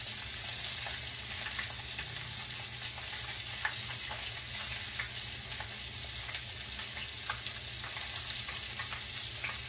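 Catfish nuggets and mushrooms fry in hot oil with a steady, close sizzle and crackle that holds evenly throughout, no voices.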